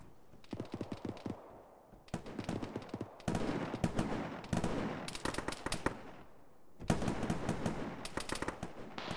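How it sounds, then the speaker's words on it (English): Rapid automatic gunfire in a military shooter game, sustained bursts of machine-gun fire separated by short pauses, fairly distant and quiet with crisp reports. "taking fire northwest!"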